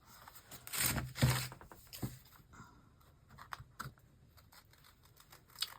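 Scissors cut through a craft item in a quiet indoor setting, giving a few crisp snips and rustles near the start, then scattered light clicks and handling sounds.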